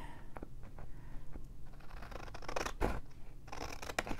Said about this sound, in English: I'm just going to trim around and get all that off, extra off